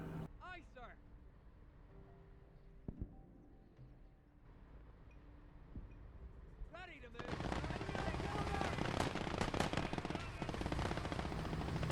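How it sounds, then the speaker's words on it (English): Machine-gun fire in the war game Call to Arms - Gates of Hell, during an attack on an airfield. Scattered shots come first, then sustained rapid bursts build into a loud, continuous barrage over someone talking. "I didn't anticipate that there would be a machine gun right there"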